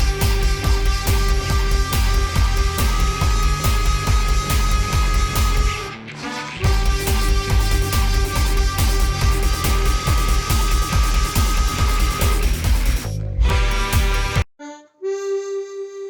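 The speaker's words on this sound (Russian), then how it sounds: "основной ритмический рисунок у нас звучит так, слегка различаясь на гитаре и гармошке" Guitar and harmonica play a loud, repeating dissonant rhythmic figure with a brief break partway through, then a short sustained harmonica-like tone after the music cuts off.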